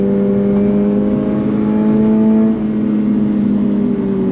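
A 2024 Subaru BRZ tS sports car holds a steady, loud engine drone through the cabin, with a brief dip in pitch and level midway as the gear changes.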